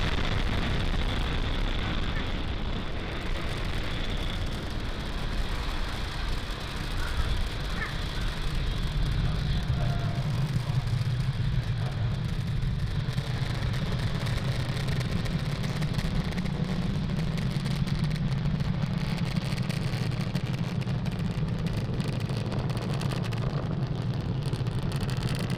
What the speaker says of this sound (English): Falcon 9 has cleared the tower, lifted off from Cape Canaveral